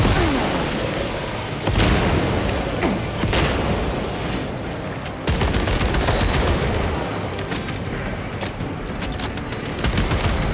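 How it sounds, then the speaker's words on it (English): Space Marine 2 combat: a grenade explosion erupts amid sustained heavy gunfire, with loud, close bursts and volleys recurring throughout, a brief gap, then renewed rapid firing. "Grenade out!"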